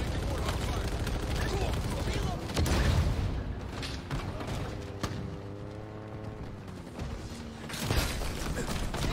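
A Halo Infinite turret fires in a dense, sustained rumbling barrage with booming hits, heavy and continuous throughout, while a player talks over it.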